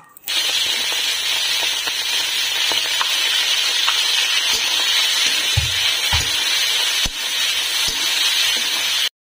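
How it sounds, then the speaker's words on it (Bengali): Shrimp frying in hot oil, a loud steady sizzle and hiss close by with a few soft clinks and thumps of handling, continuous until it cuts off. "এদিকে আমার তেল গরম হয়ে গিয়েছে, এবার আমি মাছগুলো ভেজে নেব"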